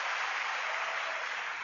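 A huge crowd of thousands applauds continuously, forming a dense, even wash of clapping that stays loud and steady throughout with no voices.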